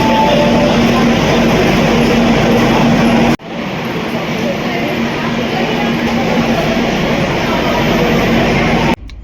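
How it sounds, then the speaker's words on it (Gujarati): A train stands at a busy railway station before departure, giving a steady loud rumble with a constant hum and a sharp cut partway through. Background voices and station noise sit beneath the rumble. "આપણી ગાડી હવે હાલવાની તૈયારીમાં છે"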